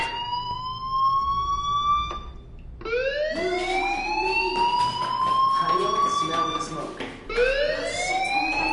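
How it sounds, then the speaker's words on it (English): A fire alarm in the video game Life is Strange blares with loud, repeated rising whoop tones that sweep upward, each cycle breaking off and starting again, with brief gaps between. "Hey, do you hear that fire alarm? That means you should be outside."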